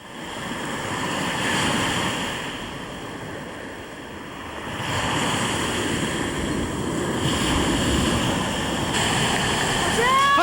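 Ocean waves breaking and surging in a steady, loud roar of surf with gusty wind noise on the microphone, swelling and easing over several seconds, with no talking.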